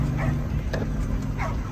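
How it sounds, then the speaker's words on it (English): Dogs on a remote ranch in Puerto Rico yip and bark twice in short, whimpering bursts over a steady outdoor background rumble. "There's another dog."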